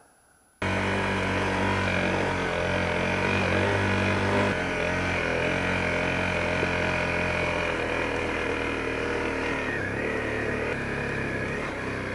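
Honda CRF250L motorcycle engine starting up and running steadily while riding, a loud continuous close drone with slight shifts in pitch, no talking.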